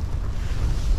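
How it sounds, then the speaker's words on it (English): Strong wind buffets a freezing wild camp, a loud, rough low-pitched roar with microphone buffeting, steady and close for a brief moment. "The wind is really picking up."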